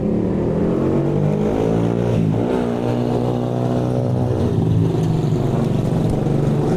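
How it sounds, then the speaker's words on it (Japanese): A loud motorbike roars close by in Dumaguete, Philippines, its engine pitch shifting as it passes, with a steady traffic drone underneath and no talking. "うるさいバイクがいましたすいません"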